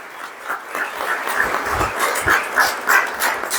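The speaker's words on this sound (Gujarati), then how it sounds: "એકવાર જોરદાર તાળી આપણા પ્રધાનમંત્રી" A lecture audience breaks into sustained, loud applause for the Prime Minister, a dense, even wash of many hands clapping together without pause.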